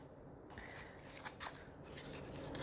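Quiet, close rustle and soft papery flutter of a small oracle deck guidebook being flipped through, pages riffling briefly over low background hiss.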